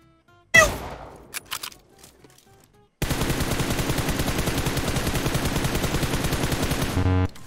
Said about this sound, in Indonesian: Banyak peluru kita ya, makanya gua tembak.